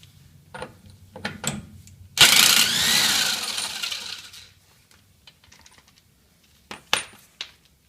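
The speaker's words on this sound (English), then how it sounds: "I'm just going to zip off this axle nut here" A power tool zips the axle nut off a 1980 VW Rabbit convertible in one loud, whirring burst of about two seconds. Scattered metallic clinks and tool handling come before and after it.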